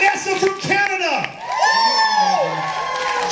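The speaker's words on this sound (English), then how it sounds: "Give him a round of applause" A crowd on a 2018 Backstreet Boys fan cruise game show cheers and whoops for a contestant, with bright shouted voices and some clapping mixed into a lively, close burst of noise.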